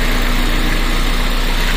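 Toyota Corolla Altis ninth-generation engine idling close up, a loud constant hum with a steady hum tone and a harsh rattling undertone from a worn water pump bearing, no voices.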